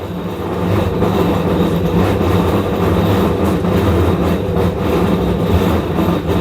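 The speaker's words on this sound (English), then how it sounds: "Now you can see here very clearly inner drum not rotating, only the pulsator rotating." A Samsung top-load washing machine, rated 1000 rpm, runs with only its pulsator rotating while the inner drum stays still because the clutch will not engage. It gives a loud, steady motor hum and churning rumble that carries on unbroken.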